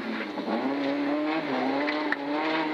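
Rally car on a gravel stage at the Terre de Langres rally, engine droning steadily at close range as it reverses and restarts, revs rising and falling without a break, no voices over it.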